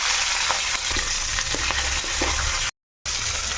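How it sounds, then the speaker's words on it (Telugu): Dry red chillies and curry leaves sizzle in hot oil for a tomato chutney tempering, a loud, steady, close frying crackle with small pops, cut by a brief silent gap near the end. "ఇప్పుడు ఇక్కడ తాలింపు వేసుకుందామండి ఆయిల్ అది వేసుకున్నాను అందులో కొన్ని ఎండుమిర్చి ఇంకా కలిమాకు ఉన్నాయన్నీ ముందే వేస్తాను"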